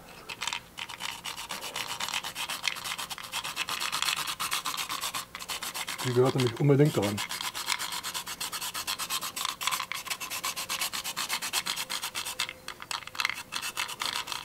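A whole nutmeg is grated in short rasping strokes that scrape rhythmically against a fine grater, with a brief spoken remark in the background partway through.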